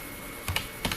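A few quick clusters of computer keyboard keystrokes tap out a date of birth, two short bursts of clicks close by against a quiet room hum.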